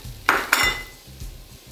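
Zucchini pieces go into a pot of curried vegetables with two sharp metallic clanks of a utensil against the pot, followed by faint low rustling and a quiet tail.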